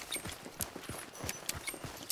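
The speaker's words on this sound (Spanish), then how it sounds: "Escuché un caballo" Horse hooves clop in a quick, uneven rhythm of soft thuds at middling distance in the Hunt: Showdown video game, with game ambience behind them.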